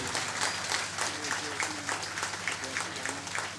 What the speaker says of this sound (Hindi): एक बार जोरदार तालियां हमारे चरण जी के लिए।